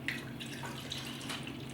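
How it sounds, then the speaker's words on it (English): Milk poured in a steady stream into a pot for scalding while baking cinnamon rolls, a soft continuous liquid trickle lasting a couple of seconds, quiet and close, with no talking. "I'm just going to pour in a generous amount"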